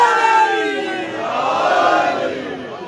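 A crowd of voices chants religious slogans together at a Muharram gathering, the chorus swelling and sustaining loudly across the clip without a break.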